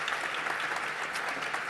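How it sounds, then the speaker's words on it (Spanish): An audience at a round-table panel applauds the speakers, a dense, even burst of clapping close by that fills the whole moment without voices. "Un aplauso para ellos y comenzad cuando queráis."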